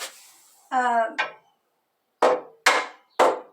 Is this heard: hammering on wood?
yes